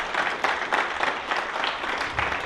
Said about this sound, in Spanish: ¿Podemos darle un fuerte aplauso?